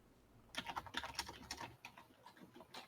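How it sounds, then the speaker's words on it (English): Computer keyboard typing, a quiet flurry of rapid key clicks in an irregular burst, then sparser taps, faint and close with no voices. "I hear Owen typing"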